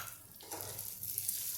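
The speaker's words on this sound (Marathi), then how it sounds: "कांदा टाकून आपण हे परततोय." Half an onion stir-fried into thin poha chivda, a Vidarbha-style Diwali snack with red chilli, giving a soft, steady sizzle and scraping stir that runs without a break, with no voices.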